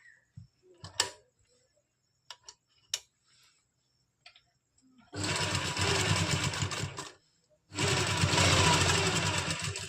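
Sewing machine stitching the waist pleats of a lined kurti, heard as two sustained loud runs of machine whirring, preceded by scattered handling clicks and taps with quiet pauses between.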